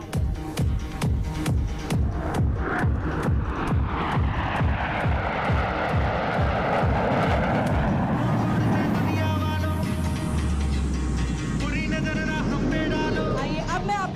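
Formation of air force jets roaring overhead at an Air Force Day display at Hindon Air Base, a loud continuous engine rumble that sweeps past with shifting pitch and fades to a lower drone.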